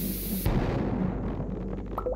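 A bomb goes off in the mine in Stardew Valley, one sharp, loud blast followed by a fading, rumbling tail, then a few small game chimes.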